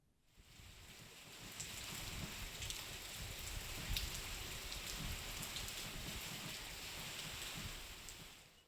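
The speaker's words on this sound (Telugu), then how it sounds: "మధ్యాహ్నం ఒక్కసారిగా మారిపోయి ఉరుములు మెరుపులతో కూడిన భారీ వర్షం పడింది" Heavy rain pouring outdoors during a thunderstorm in Telangana, a dense and steady hiss of drops drumming on surfaces with some wind, continuous and fairly distant.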